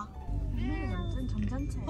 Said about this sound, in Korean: 물론 차 안에서도 구슬프게 울어댄다